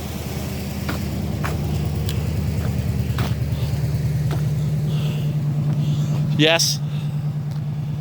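A 1979 Lincoln Continental idling with a steady low engine rumble throughout, close by, while people talk over it and a brief higher whine rises near the end.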